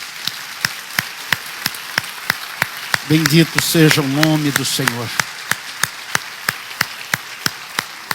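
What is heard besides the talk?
congregation applauding in church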